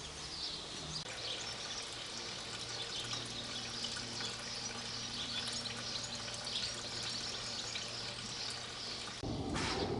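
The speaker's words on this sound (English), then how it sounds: "we actually hopefully drain a bit more of the block and see what we get out this time" Coolant drains steadily from a Hyundai Santa Fe engine block in a continuous splashing pour with a faint hiss, close and even throughout, then shifts briefly near the end.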